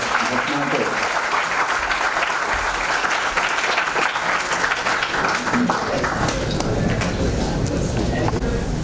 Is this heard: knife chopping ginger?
no